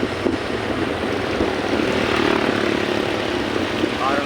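A drone flying high overhead outdoors, heard as a steady airborne engine-like hum holding evenly through the clip, mixed with broad road and wind noise, likely while riding on the way to work.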